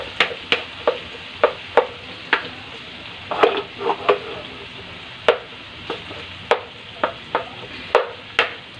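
Garlic, onion and tomato tossed into hot oil with chicken, the pan giving a soft steady sizzle while a utensil scrapes and knocks against it in sharp, evenly spaced clicks.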